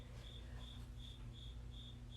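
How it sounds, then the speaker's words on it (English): A cricket chirps indoors, apparently in a closet, in an even rhythm of about six short, loud, steady chirps over a constant low hum, with no voices. "You have crickets in your closet."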